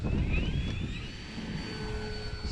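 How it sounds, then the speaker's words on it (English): A DRACO radio-controlled plane on its maiden day flies overhead, its engine giving a loud, steady whine that slowly shifts in pitch as it passes. "such a fun plane to fly."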